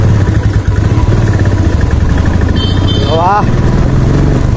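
A Bullet motorcycle engine runs steadily and loudly on a first-time ride, its low throb continuous throughout as someone talks over it, with a brief higher whine near the end.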